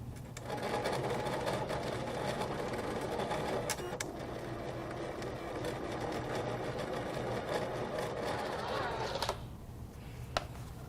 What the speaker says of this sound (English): once the machine is done embossing